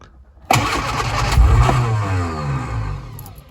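A Lotus Twin Cam engine with carburettor and distributor trouble cranks and catches abruptly, then runs loudly and roughly at a high fast idle that gradually settles lower, close by.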